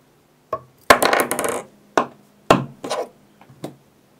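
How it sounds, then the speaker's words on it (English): Copper wire snipped off a fly-tying hook with pliers for a copper caddis larva pattern: a few sharp, close metallic clicks and brief clatter, separated by short pauses. "I'm going to cut this off in here with this plier."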